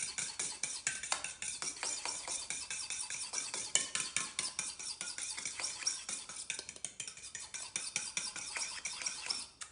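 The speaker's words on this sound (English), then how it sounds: "just stir it together." Chili sauce being stirred into baked sweet potato fries, a steady run of close, scraping and clicking utensil strokes against a dish with no talking.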